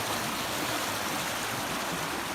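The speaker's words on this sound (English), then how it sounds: "the water churns and turns and turns, and it just turns them into foam" Churning stream water at an old pump station makes a dense, loud, continuous rushing roar, close and steady throughout.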